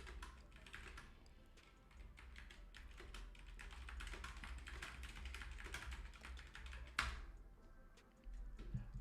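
Quick, steady typing on a computer keyboard runs through the whole stretch, close by and fairly loud, with a dense patter of overlapping key taps and one sharper clack near the end.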